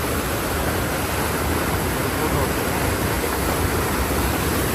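Water pouring steadily over Poolampara check dam, a close, loud, unbroken rushing wash that fills the whole clip with no talk.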